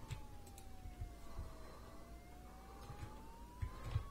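A police car siren in the video game Arma 3 wails steadily in a slow rising and falling sweep, fairly faint and distant, with low engine rumble and a few soft knocks.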